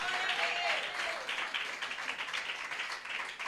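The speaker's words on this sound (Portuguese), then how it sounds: "Palmas e glória a Deus" A church congregation claps during a Pentecostal worship service, a steady, fairly even patter of many hands filling the room at moderate distance, with no clear voices on top.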